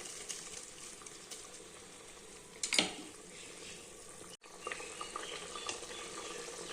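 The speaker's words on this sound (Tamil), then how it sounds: "இப்போது கொதி வருதுங்க. இப்போ இந்த அரிசியை கொட்டிடலாங்க." Rice being poured into a pot of boiling salted water for Tamil beetroot rice, a steady bubbling hiss with a brief louder splash and stir partway through, close and alone.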